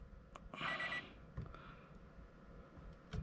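A short electronic rev limiter beep sounds once, bright and clear, over low mechanical background noise, followed by a few faint clicks.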